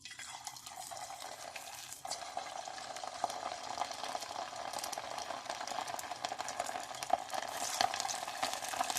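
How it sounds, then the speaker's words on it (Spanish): Thin pieces of chicken sizzle and brown in hot oil in a pan for a Chinese-style cabbage and chicken dish, a steady, fairly quiet crackling hiss that grows slightly busier partway through. "vamos a agregar el pollo, que se vaya dorando, vean."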